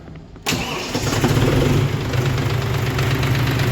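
A John Deere 5045D gear pro tractor diesel engine cranks and catches after a brief quiet moment, then settles into a steady, loud, close idle with a low rumbling knock.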